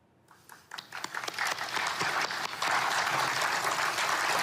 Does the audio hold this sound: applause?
yes